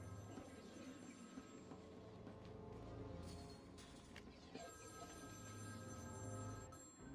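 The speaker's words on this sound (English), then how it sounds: "The phone's ringing again." A telephone rings in the video game Batman: Arkham City, a steady, repeating electronic ring at low volume over a constant background hum of game ambience.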